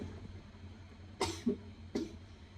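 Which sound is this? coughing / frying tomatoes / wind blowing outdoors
coughing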